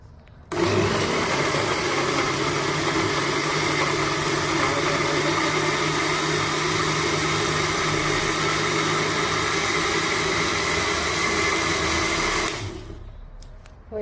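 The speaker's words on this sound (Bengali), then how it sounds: "এখন আমি এগুলোকে ব্লেন্ডারে ব্লেন্ড করে নেব" An electric blender whirs steadily as it purees boiled apples, a loud and continuous drone that starts abruptly, holds for about twelve seconds and then cuts off, with no voices.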